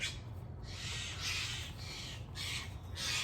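Several birds call in the early morning at about 6 o'clock, with repeated crow-like caws coming in bursts at a moderate distance over a steady low background hum.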